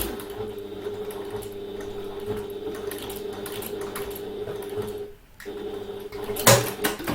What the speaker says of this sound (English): we're sewing to that second mark